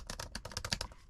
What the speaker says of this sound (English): Nice, clicky keyboard.